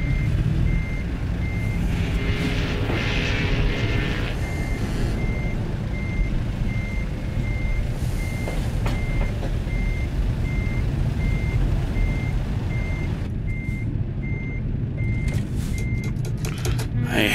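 Repeated evenly spaced high beeps from a reversing truck ring out over a rumbling diesel engine, continuing steadily for most of the stretch.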